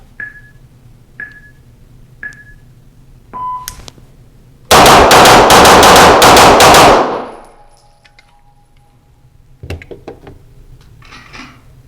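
Rapid pistol fire from a BUL Armory pistol aimed at a row of targets, heard as a dense close burst of about a dozen loud shots in quick pairs, preceded by a few separate electronic beeps and followed by a fading echo.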